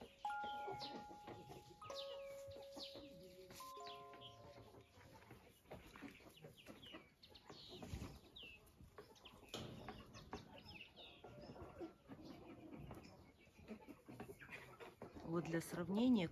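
Chickens clucking on a dacha smallholding where turkeys are also kept: scattered, fairly faint clucks and fowl calls near and far, with someone talking over them for most of the time.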